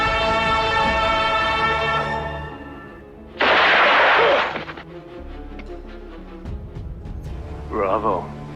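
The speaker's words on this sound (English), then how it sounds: "Mortimer swiftly pulls the trigger and fatally shoots Elindio" A single pistol shot in a film duel, a loud broadband burst that cuts in over music and speech, then fades into the continuing scene.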